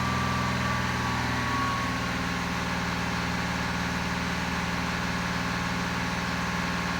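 A Euro 6 car engine is held at 2,500 RPM, giving a steady, loud, unbroken drone that stays level throughout, with no talk.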